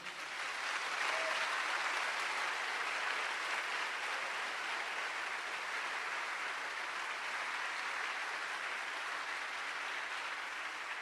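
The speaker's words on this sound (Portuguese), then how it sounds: "Você pode aplaudir ao Senhor?" A church congregation applauds steadily and loudly for about eleven seconds, a dense, sustained wash of clapping with no voices standing out above it.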